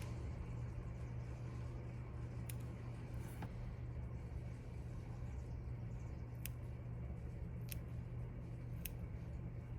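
Scissors snipping mink fur from an old fur coat around the eyes of a teddy bear, a few faint, sparse cuts spaced apart over a steady low hum.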